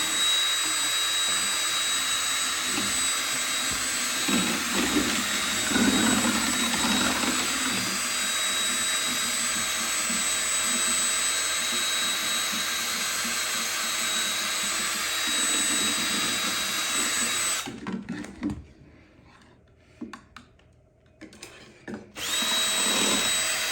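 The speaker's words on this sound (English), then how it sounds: "this mixing tool is wonderful" A drill-powered mixing tool churns wine in a homemade winemaking batch with a loud, steady whine for most of the stretch, briefly cutting out before starting up again.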